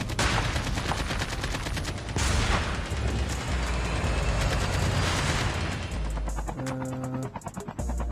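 Sustained bursts of gunfire in a Call of Duty Mobile battle royale match with an AK47, loud rapid volleys and heavy impacts continuing for several seconds before tapering off.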